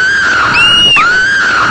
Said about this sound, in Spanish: pero qué han sido esos gritos tan horrorosos que han resonado por todo el cielo?